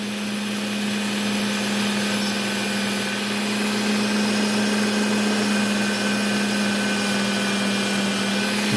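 Small whittling knives being sharpened on a Work Sharp Ken Onion belt sharpener, a continuous steady motor whine with a grinding belt hiss that holds unbroken throughout, no talk.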